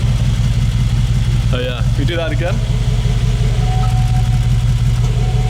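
2019 Mercedes G63 with its exhaust valves open, a loud, deep engine idle and rumble held steady from close range, with a brief voice breaking in partway through.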